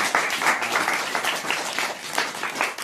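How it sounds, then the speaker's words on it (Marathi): A roomful of schoolchildren clapping loudly to welcome a guest, dense steady applause lasting the whole moment. "या पाहुण्यांचं सर्वांनी जोरदार टाळ्या स्वागत"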